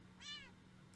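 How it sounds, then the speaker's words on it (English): An annoyed cat in a video game gives a single short, clear meow, rising and fading within half a second over a quiet, steady low hum. "The cat sounds annoyed with you."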